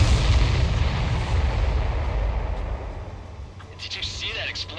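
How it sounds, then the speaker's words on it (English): A missile explosion in the Ace Combat 7 flight game, a loud rumbling blast that decays over a few seconds before a brief crackling burst near the end. "Did you see that explosion?"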